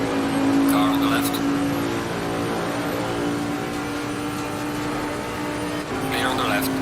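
A race car engine drones loudly and steadily in a racing sim as another car passes close on the left, the pitch shifting slightly, with a spotter's voice calling out over the roar.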